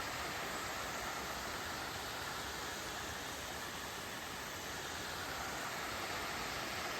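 Small waterfall pouring steadily on a hiking walk, a constant broadband rush of falling water, close and even throughout with no voices.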